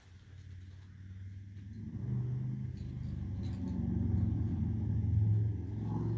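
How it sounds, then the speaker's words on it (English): A fire truck drives up a street nearby, a steady low engine rumble that swells and grows louder over several seconds, heard alone without talk. "You hear the fire truck going up the street."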